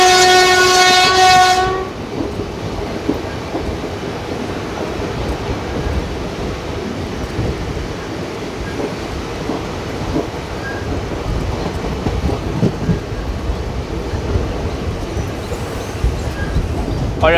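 A passenger train between Guntur and Dhone in Andhra Pradesh sounds a loud horn blast for about two seconds, then rolls on with a steady rumble and rhythmic clatter of wheels on track.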